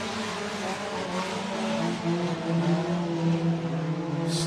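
Modified race cars at a heat race at Buena Vista Raceway drone and rev continuously, engines rising and falling as they circle the track in a loud, steady roar.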